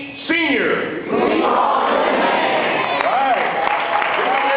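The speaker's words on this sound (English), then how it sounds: "Give him a big round of applause." A Baptist church congregation breaks into applause with cheers, the clapping swelling after a moment and holding steady while voices call out over it.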